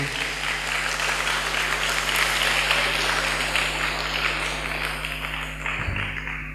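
Sustained applause from a crowd at an Islamic boarding school event, dense and even throughout, with a faint voice near the end.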